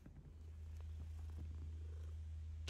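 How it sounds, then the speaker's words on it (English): A cat purring in the video game Hogwarts Legacy, a steady low rumbling purr running continuously and fairly quiet throughout. "Cat, kitty cat."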